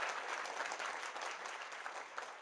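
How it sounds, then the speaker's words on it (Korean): A crowd applauds at a talk concert on the Annals of the Joseon Dynasty, a soft, even wash of many hands clapping that sounds faint and somewhat distant throughout. "큰 박수 한번 보내주시죠."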